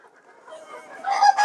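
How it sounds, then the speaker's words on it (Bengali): Egyptian Fayoumi chickens on a farm give soft scattered clucks that swell into louder, busier calls toward the end, a mid-range chatter of several birds close by with no voices. "মিশরীয় ফার্মি মুরগি"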